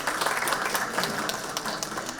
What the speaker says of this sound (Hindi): एक बार जोरदार तालियों से आप लोग इनका स्वागत करेंगे।